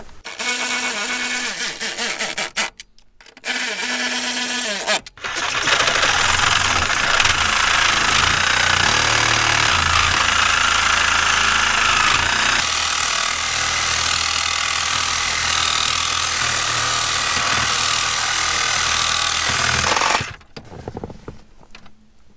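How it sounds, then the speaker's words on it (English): Sawzall reciprocating saw cutting through a steering column bracket under a car dash during a manual transmission swap, a loud sustained buzzing cut of about fifteen seconds after two brief starts, then stopping. "minimize the vibration of the Sawzall"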